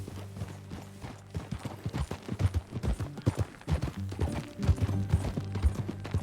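Rhythmic clip-clop of horse hooves at a walking pace in the video game Red Dead Redemption 2, fairly close and steady, with no talking.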